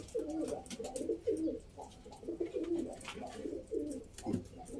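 Pigeons coo close by in repeated soft, throaty rolling calls, several birds overlapping in a steady rhythm against faint background noise.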